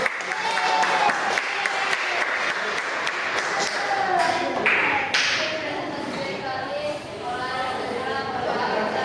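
An audience at a junior high school gathering claps, the early burst of applause thinning into scattered claps amid crowd chatter and a person speaking over it.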